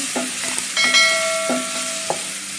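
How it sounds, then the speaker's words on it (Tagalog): Eggplant is stirred in a frying pan, with a spatula tapping and scraping the metal pan in a few distinct strokes that leave a brief ringing tone over a soft background sizzle. "tamang halo lang po tayo para mag-combine yung ating lasa"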